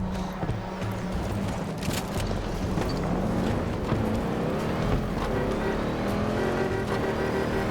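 A transport vehicle in Battlefield 2042 arriving, a continuous engine rumble with revving surges and passing whooshes amid battle noise, fairly quiet and steady throughout.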